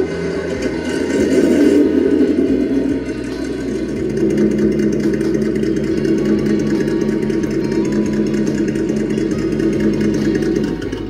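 A 1:10 scale radio-controlled Land Rover Defender D110 runs its motor with a steady, even whirring hum that carries on for about eleven seconds, close and without talk.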